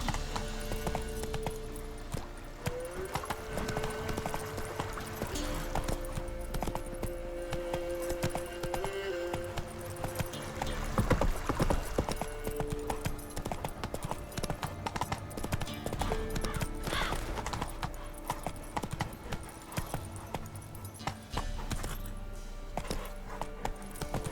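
Horse hooves clip-clop steadily in The Witcher 3 video game, a continuous walking rhythm heard over game music and ambience, fairly quiet and with no talking.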